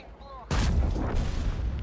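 A tank cannon in New Order of War fires one heavy, booming shot that bursts in abruptly after a moment of near quiet, its deep roar rolling on and decaying slowly to the end.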